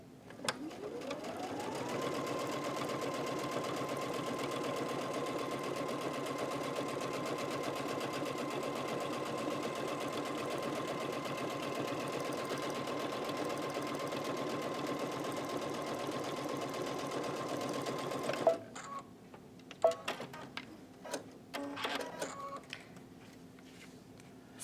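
A Brother sewing machine stitches through two layers of leather with a steady, continuous motor whir and needle hum for a long stretch, then stops, followed by a few brief handling clicks and knocks.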